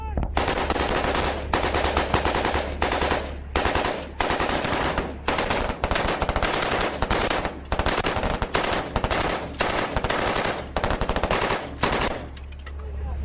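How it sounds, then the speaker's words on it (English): Machine guns lay down covering fire during a patrol in Afghanistan, with loud, continuous rapid bursts separated by brief gaps, close and dominant. "We make for the safety of the open desert, followed by machine guns and mortars."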